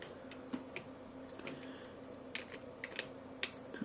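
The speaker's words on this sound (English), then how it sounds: "holding down the space bar again and clicking and dragging with the mouse to move" Computer keyboard keys and mouse clicks tap out scattered, sharp ticks at a desk while editing in Photoshop Elements, quiet and close with no talking.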